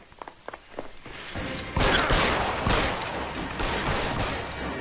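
Rapid bursts of gunfire in the L.A. Noire video game, starting after a few faint thuds and building into a loud, sustained fusillade of overlapping shots.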